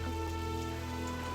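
Night rain falls steadily, a soft continuous patter mixed with a low, constant musical drone, with no one talking.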